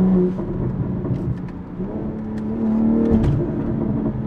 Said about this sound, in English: this car with this downpipe, I'm very impressed because you get almost like a free flow type experience